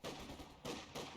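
Cannon fire in Company of Heroes 2 arrives as three broad, dull booms in quick succession, distant-sounding and rumbling, with no talk over them.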